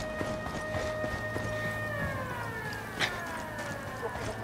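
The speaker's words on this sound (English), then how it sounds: "What's with the alarm?" Wailing alarm siren in a Ghost Recon Wildlands game scene at a prison village, a sustained rising and falling tone playing fairly quietly in the background with faint clatter and ambient game noise.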